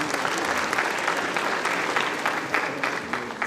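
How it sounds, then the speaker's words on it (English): An audience at a CA Foundation conference attended by India's finance minister claps loudly and continuously for a few seconds, a dense, even wash of hand claps filling the hall. "Huge round of applause"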